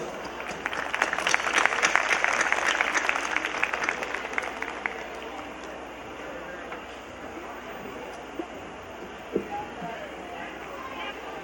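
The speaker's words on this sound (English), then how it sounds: "So please give a big round of applause." Applause from a crowd at a school annual function, a dense, loud wash of clapping for the first few seconds that thins into a lower, steadier patter of scattered claps and room murmur.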